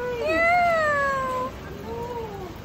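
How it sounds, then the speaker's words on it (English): A cat meows on a Hong Kong street near a night market: one long, clear, rising-then-falling meow followed by a softer, shorter one, close and loud over quiet background hum. "May pusa kami nakita"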